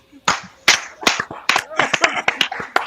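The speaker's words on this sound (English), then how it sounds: "hey, coach, what a clap." A string of sharp, slapping hand claps, several in quick succession, loud and close, mixed with chatter and voices.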